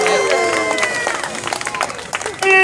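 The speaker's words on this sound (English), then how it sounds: "Let's have a big round of applause." Crowd clapping and cheering at a barnyard animal race, moderately loud with scattered individual claps, mixed with a voice and tonal music.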